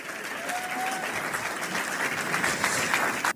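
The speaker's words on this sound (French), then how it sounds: "Sous vos applaudissements," A crowd applauds at a French Christian gathering, a full sustained burst of clapping that holds steady and fairly loud throughout, then cuts off abruptly at the end.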